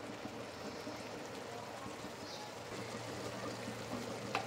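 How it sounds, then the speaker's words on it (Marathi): Pot of water at a rolling boil for cooking rasgulla, a steady bubbling, gurgling wash close by, with no talking. "आता आपल्या पाण्याला उकळी आलेली आहे."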